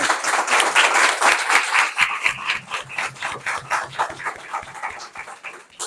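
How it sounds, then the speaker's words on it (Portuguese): Audience applause at the close of a business talk by a lawyer, a dense, steady run of clapping that fills the whole stretch, loud and near, then thinning slightly toward the end. "Uma salva de palmas."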